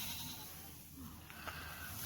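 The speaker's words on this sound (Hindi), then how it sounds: "घास बकरी को डालेगा, बकरी सब खा लेगा" Goat being fed grass in a village in Saudi Arabia, a single short, faint bleat rising briefly over a quiet outdoor background.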